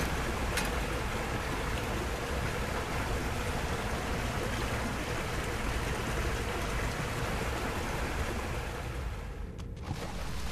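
A steady, broad rush of water pours in continuously at moderate level in the video game The Cave, a smooth hiss that briefly dips near the end.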